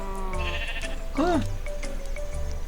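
A goat in the Minecraft video game gives one short, clear bleat over a steady background of in-game tones.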